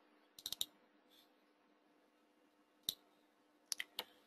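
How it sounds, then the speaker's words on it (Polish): Computer mouse clicking while drawing a terrain profile, sharp close clicks in quick clusters of two or three with quiet gaps between, no talk. "dwukrotnym kliknięciem kończymy jego rysowanie"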